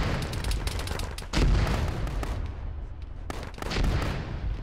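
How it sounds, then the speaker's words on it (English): Mortar shelling during an Arma ShackTac battle: heavy booming impacts amid rattling gunfire, with one large thump and a later rolling blast, loud and near, no talk. "That mortar may have landed on their own guys."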